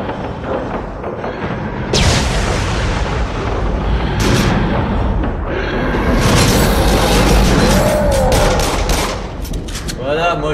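Repeated gunshots from a virtual-reality shooter game, Until Dawn: Rush of Blood, fired in loud bursts across the clip with booming impacts and dense in-game noise.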